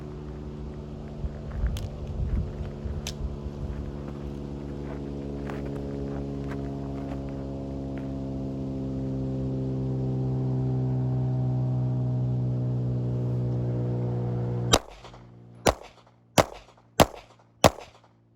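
Five sharp, loud gunshots from a Glock 19 clone pistol at an outdoor shooting range, fired in a quick, evenly spaced string after a long stretch of steady low engine-like rumble.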